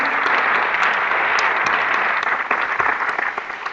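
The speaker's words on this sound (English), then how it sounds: "Stand up as I say your name, and so we can give you a applause." Dense, loud audience applause at a live meditation event as honored guests stand to be recognized. The clapping stays full and continuous throughout.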